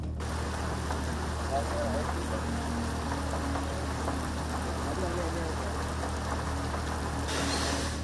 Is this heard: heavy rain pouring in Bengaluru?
yes